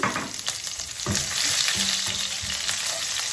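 Panch phoron five-spice and a Bangladeshi bay leaf sizzle and fry in hot oil, a steady close crackle with occasional stirring clatter and no talk.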